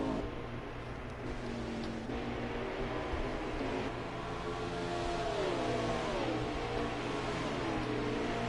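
Race car engines at Road America in NASCAR Heat 5: a dense, droning roar of stock cars runs throughout at moderate volume, with pitch rising and falling as engines rev and shift, and no talk over it.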